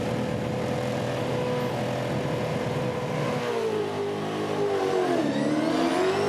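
A Supercars race car accelerates hard in first gear during wet practice at Auckland, its engine note climbing steadily and dipping briefly at a gear change before rising again, loud and close from the cockpit with no talk.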